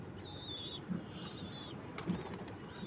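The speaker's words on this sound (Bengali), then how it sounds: "আর লোটন নটটা ডাকতেছে ভিতরে, দেখেন খুব সুন্দর লোটন নটটা।" A male Lotan pigeon coos inside a loft, two soft low throaty coos at a distance, with faint high chirps from other birds and a light rustle.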